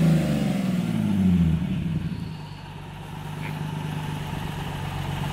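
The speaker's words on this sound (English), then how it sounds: "Andy McFly just pulled up right now" A Nismo 370Z engine runs loud and close as the car pulls up, a rumbling revving that settles into a steady idle drone.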